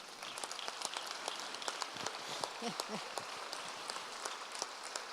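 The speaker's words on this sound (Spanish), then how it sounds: "también le vamos a dar un aplauso a don Rogelio" A teachers' union congress audience gives a round of applause in a large hall, a faint, steady spatter of distant clapping with a brief murmur of voices partway through.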